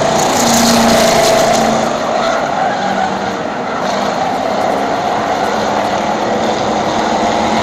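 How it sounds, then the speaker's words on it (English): Race cars run nose to tail out of turn four on a short oval track as they take the white flag, their engines a loud, continuous roar that dips slightly midway, with no voices over it. "Top 4 cars nose to tail as they come out of turn number 4 and get the white flag."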